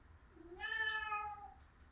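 A house cat gives a single drawn-out meow, rising and then falling in pitch, close and clear against a quiet background.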